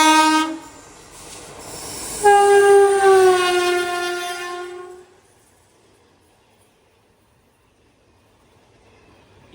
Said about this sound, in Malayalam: തിരുവനന്തപുരം മംഗളൂരു ഏറനാട് എക്സ്പ്രസ് ഇതാ കടന്നു വരികയാണ്